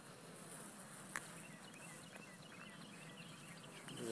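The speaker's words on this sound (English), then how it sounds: "Now hopefully these other bees will get to fanning." A swarm of honey bees being caught outdoors gives off a faint, continuous buzzing drone, low and distant, with no voices.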